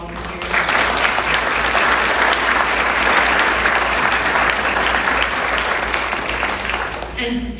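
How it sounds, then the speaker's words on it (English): International Exstrophy Conference audience applauding volunteers: sustained, dense clapping from a large crowd that swells quickly and holds steady for several seconds before tapering, loud and close, with some voices mixed in. "So a round of applause to all of our volunteers."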